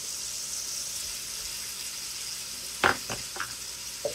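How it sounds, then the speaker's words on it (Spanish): Shrimp frying in a pan for Cantonese fried rice, a steady hissing sizzle throughout, broken near the end by a few clattering knocks of a utensil against the pan. "ahora le voy a echar los camarones"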